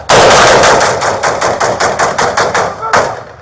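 A SWAT standoff with an armed female suspect inside a McDonald's brings a loud, close volley of about fourteen gunshots in a rapid, regular rhythm, then a short pause and one final shot.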